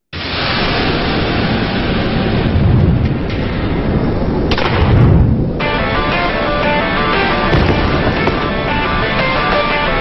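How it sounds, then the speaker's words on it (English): Sticky bomb detonating in GTA 5 Online against a player on an Oppressor Mk II, loud booming blasts layered over constant dense game noise and rumble, with a sharp burst near the middle of the stretch. "we're gonna take this guy off his oppressor mark too with a sticky bomb"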